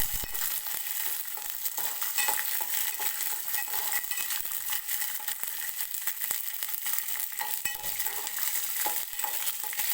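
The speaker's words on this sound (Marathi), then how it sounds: "ते तेलामध्ये मी टाकून घेते आणि सोबतच आपल्याला हिरवी मिरची सुद्धा टाकायची आहे आणि हे छान असं भाजून घ्यायचं आहे आपल्याला" Raw peanuts and green chillies roast in hot oil for a coconut chutney, giving off a bright, continuous sizzle with crackling pops and light stirring nearby. No one is talking.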